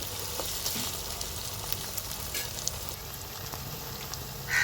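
Onion pieces sizzling in a pan with a spoonful of ginger-garlic paste added, while cooking a raw prawn and egg curry. The oil crackles steadily and close up, with small pops and no talking.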